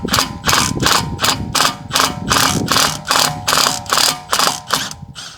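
A ratchet loosening a seized T30 brake screw on an MK7 Golf R, about a dozen loud, close metallic clicking strokes in a steady rhythm, with no talking.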